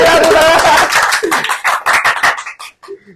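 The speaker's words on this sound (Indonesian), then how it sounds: "Tepuk tangan" Close, loud clapping from a small group in a casual discussion show, a burst of many hands that thins into separate individual claps and stops within about three seconds.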